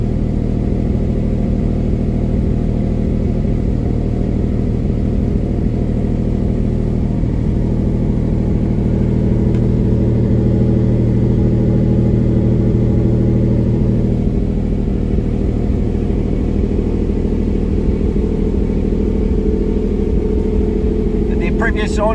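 A 1999 Lamborghini Diablo Roadster engine idling down toward about 1100 RPM, giving a steady low rumble that stays close and loud for the whole stretch.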